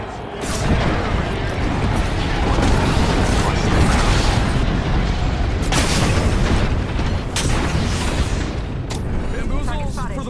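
Airstrike explosions in a video game boom and rumble continuously as a dense, loud barrage, with gunfire crackling through and a voice talking over it.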